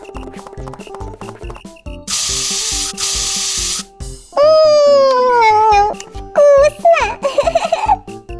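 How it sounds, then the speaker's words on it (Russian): Pretend throat spray for a toy baby doll gives a few short, bright hissing bursts near the mic between playful background sounds, with a high synthetic whistle-like toy tone following. "спрей для горла. Он обязательно поможет."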